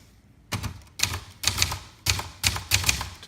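Keys striking on a 1979 Brother Deluxe 1350 manual typewriter, loud and close, in quick irregular bursts of clacks with short pauses between groups and no voices.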